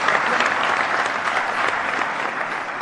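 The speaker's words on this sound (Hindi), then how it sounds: "एक बार जोरदार तालियां स्वागत करेंगे प्रधान जी का।" Loud, sustained applause from an audience welcoming a farmers' leader at a rally or public gathering, dense steady clapping with no pauses for nearly three seconds.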